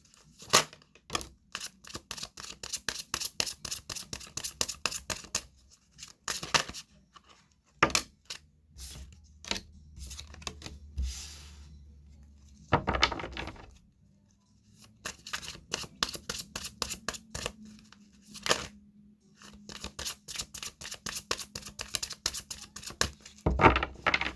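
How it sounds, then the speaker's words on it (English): Playing cards shuffled by hand in repeated quick riffling bursts, close and fairly quiet, with short pauses between rounds. "I felt like I wanted to shuffle the cards on camera"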